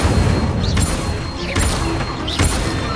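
Incendio fire spells cast in Hogwarts Legacy, repeated fiery bursts with whooshing flame blasts roughly every second, loud and close over a dense rumbling game soundscape.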